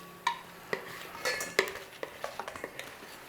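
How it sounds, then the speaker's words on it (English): A metal baking tray that held potato wedges is shoved back into a kitchen oven, giving a run of sharp clanks and rattles with a few lighter ticks trailing off, close and fairly clear. "I've just chucked the tray back in there."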